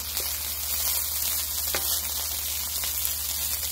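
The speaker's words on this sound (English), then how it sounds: "But keep stirring it also while it's frying" Ribeye steak fried rice hisses in a skillet with a steady, dense sizzle, close and moderately loud, with no talking over it.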